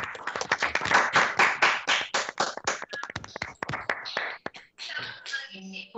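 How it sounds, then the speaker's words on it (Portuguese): A small audience applauds after an agreement signing between ANEEL and the government of the state of Sergipe, a burst of clapping that thins into scattered claps and then stops, with a faint murmur near the end. "Podemos Parabéns. abrir os microfones e aplaudir."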